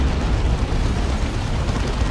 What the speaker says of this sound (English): Plasma cannons come flying in.